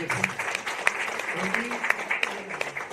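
An indoor audience claps for a cleaner, a brief, moderately loud patter of many hands with scattered sharper claps, over a faint low murmur.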